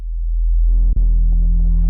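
Serum 2 synth bass with soft clipping distortion: a deep sustained low tone, then a buzzy, harmonic-rich layer enters with a brief dropout and carries on, loud and alone.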